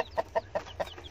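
Newly hatched Fayoumi chicks peep in a quick run of about five short, bright calls, close and alone.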